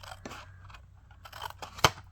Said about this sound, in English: That's the amazing thing about these paper snips.